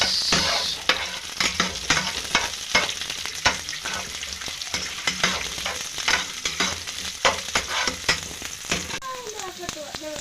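Onions sizzling and frying in a pan for beef caldereta, with steady broadband crackle and repeated stirring scrapes throughout, loud and close, without speech.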